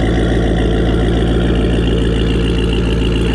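A lifted cheap Jeep's engine idling loudly up close, a deep, steady rumbling drone with a constant low throb that does not vary, alone with no voices.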